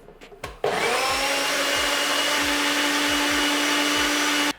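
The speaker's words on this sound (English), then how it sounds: "I'm just going to blend this again just until the red pepper is incorporated" A blender whirs cashew cream sauce with roasted red pepper, starting after a couple of knocks and then running loud and steady for about four seconds before it cuts off, close and alone.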